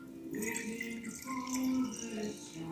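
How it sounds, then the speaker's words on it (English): Warm water runs in a thin stream into flour for a sourdough dough, a soft, quiet trickle with faint splashing that continues steadily for a few seconds. "We want to add 360 grams of water"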